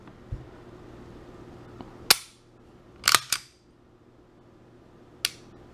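Sharp trigger reset clicks from an Elite LTT pistol fitted with an optimized Langdon trigger bar, four crisp snaps heard close and alone: a single click, then a quick pair, then one more after a pause.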